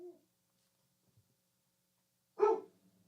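A dog gives a single short bark at mid distance, alone in an otherwise quiet room, with a faint tone at the very start.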